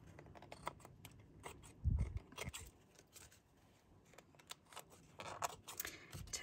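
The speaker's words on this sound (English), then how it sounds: "we'll just trim off the sides again" Scissors trimming scrap paper petals, a quick series of small snipping clicks with one louder crunch near the start, close and quiet with no talk.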